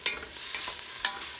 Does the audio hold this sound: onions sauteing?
yes